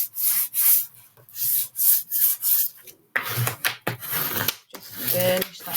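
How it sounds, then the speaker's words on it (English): Tape is burnished down onto a hardcover journal cover with a series of quick rhythmic rubbing strokes up close, followed by a denser scraping, rubbing passage. "Just burnish that tape down a little bit."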